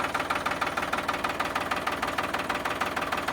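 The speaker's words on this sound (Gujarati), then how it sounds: "નંબર 1 ઉપર ફાર્મર ટ્રેક ટ્રેક્ટર છે જે મોડલ 2008નું છે" A 2008 Farmtrac tractor engine, first-owner, runs at idle with a steady, rapid knocking thump that is close and even, with no other sounds over it.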